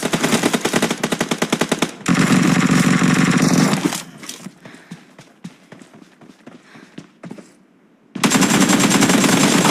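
Automatic weapon fire in the video game PUBG Mobile rattles in rapid loud bursts. Quieter scattered shots and game sounds fill a gap before the heavy fire resumes.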